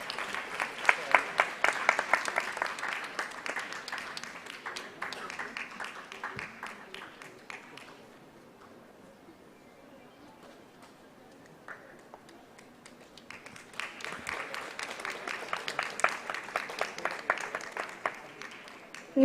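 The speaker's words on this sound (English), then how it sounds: "Please join me in congratulating them with a big round of applause." Applause at an eye donation fortnight award ceremony honouring surgeons: a hall of clapping that fades to near silence midway, then swells back up into a second burst of steady clapping.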